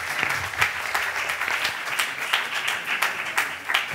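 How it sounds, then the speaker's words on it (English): An audience at a keynote lecture gives a warm round of applause: dense, steady clapping from many hands throughout, fairly close, with no speech on top. "So a brief warm of applause"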